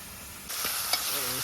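Ackee and saltfish frying in a pot over an outdoor fire in the Jamaican countryside, a steady close sizzle with a sudden louder hiss as it starts, plus faint stirring scrapes.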